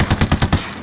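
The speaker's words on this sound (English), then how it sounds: "Taking a shot." A quick burst of about five rapid gunshots in Ghost Recon Wildlands, loud and close, evenly spaced, then a short fading tail.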